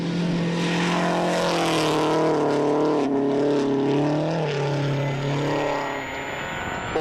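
Solberg's Subaru WRC rally car approaches and drives past on a stage, a loud sustained engine roar with harmonic tones that shift and dip as it passes, alone without talk.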